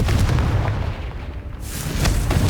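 In Hogwarts Legacy, a Confringo fire blast spell goes off with a heavy, booming burst, and rumbling explosive noise fills the short stretch with a brief lull in the middle.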